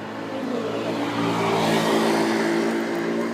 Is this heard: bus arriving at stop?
yes